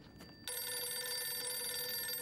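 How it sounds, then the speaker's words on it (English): An old-style telephone bell rings in a Doctor Who episode, ringing steadily and fairly quietly after a brief muffled moment, with no talk over it. "What am I supposed to do with a ringing phone?"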